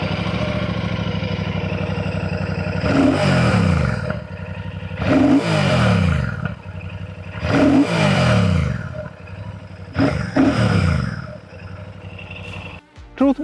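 A Royal Enfield Bullet 650 motorcycle with a twin-cylinder engine is revved up close in four strong throttle blips, each rising and falling over a steady idle. The engine settles back between the blips, and no one talks.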